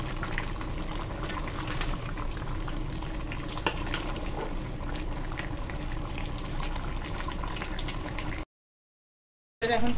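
Beef curry bubbles in a pot, a dense steady boiling and spluttering texture that holds evenly for several seconds, then cuts to silence before briefly resuming.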